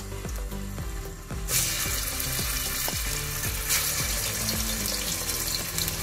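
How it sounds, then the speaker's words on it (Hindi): Mutton sizzles and fries in hot oil in a pressure cooker, a steady crackling hiss that grows louder partway through, with occasional clinks of a utensil against the pot. "जब तक गोश्त अपना कलर चेंज ना कर दे हम इसको फ्राई करेंगे।"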